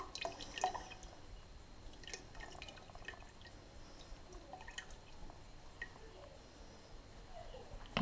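Steeped tea bags for kombucha are lifted from a jar of room-temperature water, dripping in scattered small splashes and trickles, quiet and close, with some low talk.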